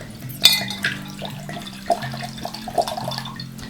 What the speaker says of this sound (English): going to fill this with water and then measure how much is in there